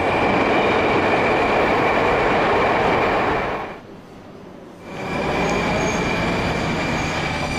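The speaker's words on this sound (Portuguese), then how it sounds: "o metrô de Moscou também é característico pelo seu barulho, pelo menos nos vagões antigos, desta estação de Arbatskaya" Old Moscow metro train cars rumble loudly at Arbatskaya station, a steady roar with wheel squeal that briefly drops away midway, then returns.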